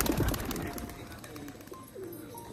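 Pigeons in a cage give soft, low cooing calls, a few murmuring coos close by at low volume, with faint rustling around them.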